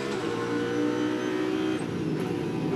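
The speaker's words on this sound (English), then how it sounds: "Heavy braking" Onboard a Land Motorsport Audi GT race car at Oschersleben, a loud steady engine drone as the car brakes heavily, with slight shifts in pitch and no talk.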